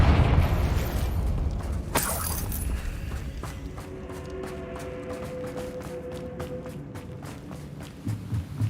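A Confringo blast spell explodes in Hogwarts Legacy with a loud, low boom at the start, a sharp crack following, then scattered light impacts and footsteps over the game's ambient background.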